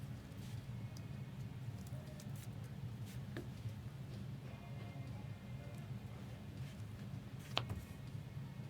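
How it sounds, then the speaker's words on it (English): Rain falls steadily in Las Vegas as a soft, constant hiss with occasional faint ticks and drips, low and distant throughout with no voices. "I always appreciate rain."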